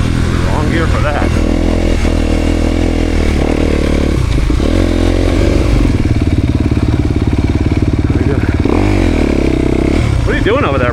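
A dirt bike engine drones loud and steady as the rider crosses rough terrain during adventure bike skills training, the revs rising and falling, with wind buffeting and brief voices mixed in.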